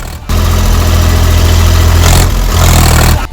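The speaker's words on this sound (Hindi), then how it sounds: "किसान जिस ट्रैक्टर से खेत की जुताई कर रहा था, उसी ट्रैक्टर से उसने हाथियों को खदेड़ना शुरू कर दिया" A farmer's tractor engine, used to chase a herd of elephants out of a sugarcane field, runs loud and close with a steady heavy drone, dipping briefly before surging again, alone without talk.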